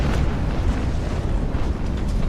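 Cannon broadside in a tabletop naval battle: a dense, continuous rumbling roar of massed guns, loud and close, with no gaps for the whole stretch.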